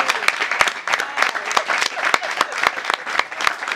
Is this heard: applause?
yes